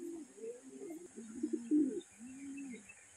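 Racing pigeons arriving at a loft, giving soft, faint, low cooing calls in short, uneven phrases over a quiet background.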